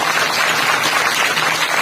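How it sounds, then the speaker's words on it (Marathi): Loud, dense applause from a kirtan gathering for the children and hosts, a continuous crowd of clapping hands that stays steady and full for the whole moment without any voices on top. "जोरदार टाळ्या एकदा त्यांच्यासाठी झाल्या पाहिजे"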